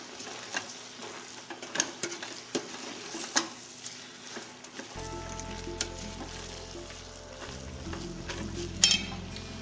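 Pasta with broccoli, tomatoes and freshly grated Parmesan tossed in a hot pan, giving a soft steady sizzle with scattered clinks and scrapes of a utensil against the pan, close up and with no voices.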